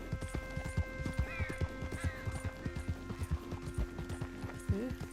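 Horse hooves clip-clopping in the video game Red Dead Redemption 2, a steady close trotting rhythm of sharp hoof strikes over faint ambient background, ending with a brief whinny-like sound.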